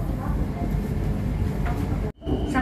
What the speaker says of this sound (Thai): วันนี้เรามากรุงเทพขึ้นรถไฟฟ้า BTS เพื่อที่จะไป บ้านทับช้าง